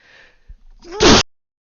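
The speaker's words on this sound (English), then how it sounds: "I think I'm going to sneeze" A single sharp, loud sneeze bursts out up close after a brief quiet intake of breath, then stops abruptly into silence.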